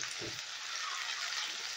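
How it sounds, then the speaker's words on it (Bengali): A ground paste of onion, ginger, garlic and green chilli frying in a pan for a masoor dal omelette curry, a soft steady hiss with no talk. "এবার মশলাটাকে আমি মিনিট 2 কষিয়ে নেব।"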